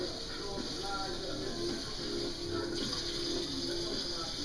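Water running from a tap while a bedpan is rinsed in a nursing care demonstration, a steady hiss and splash continuing throughout with faint voices underneath.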